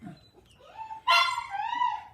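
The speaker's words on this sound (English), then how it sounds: "you can hear my dog squealing in the background" A dog squeals and whimpers in rising, drawn-out cries indoors, one sharp loud yelp breaking out midway before the whining trails on, with no one talking.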